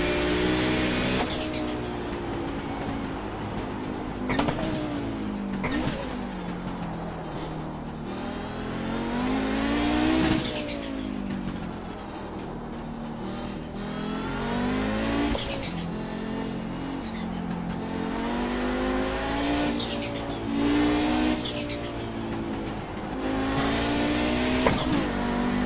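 An Audi GTO race car from iRacing laps the bumpy Summit Point circuit, its engine revving up and down steadily through gear changes, loud and close, with sharp shifts and braking dips recurring throughout.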